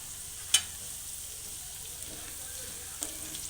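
Sliced onion frying in a pan with turmeric mixed in, a steady soft sizzle throughout with a sharp clink of the stirring spoon near the start and another lighter tap later.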